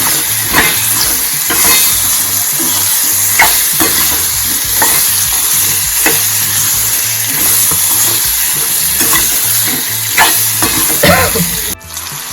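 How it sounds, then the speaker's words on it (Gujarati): Radish is stirred into a pan of sizzling green chillies for a Gujarati mula sambharo, with steady scraping and stirring over a constant frying hiss that stays loud and close throughout, and no voices. "મૂળા એડ કરી દઈશું મિક્સ કરી લેશું"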